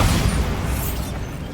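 A Bombarda spell explodes in the Hogwarts Legacy video game as a loud, close, broadband blast that stays dense and roaring for over a second before easing slightly, with no voices over it.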